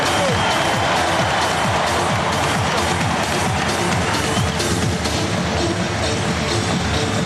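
A packed basketball arena crowd at an NBA Finals game between the Lakers and the Nets roars continuously, loud and dense cheering with clapping and noise that swells without a break.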